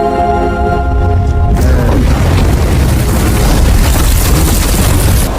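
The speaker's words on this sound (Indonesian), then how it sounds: "bom itu pun meledak di dalam tubuh Yoten" A grenade blast inside a troll's body in a fantasy monster film: a sudden loud, deep explosion cuts off a tonal passage and then rolls on as a sustained roaring, crackling rumble, with no talk.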